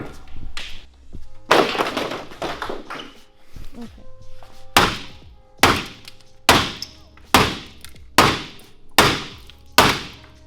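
Repeated sharp metallic hammer blows on parts of a 2019 Subaru STI being cut apart ring out in a steady rhythm, close and loud, after a stretch of clattering and knocking.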